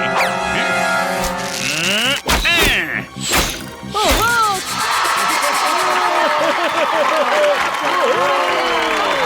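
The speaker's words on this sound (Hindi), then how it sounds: "सभी शेर सुने बिना ताली ठोक रहे हैं" Cartoon audience clapping in a Honey Bunny Hindi kids' episode, a dense continuous patter of applause mixed with bright cartoon music, a couple of hard whacks early on, and voices over the top.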